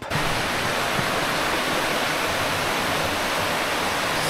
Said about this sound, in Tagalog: Dito kami sa parang cave nila na may batis.